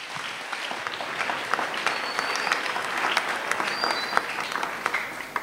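Audience applause with scattered cheers and whistles, steady and continuous for several seconds, cheering for the king.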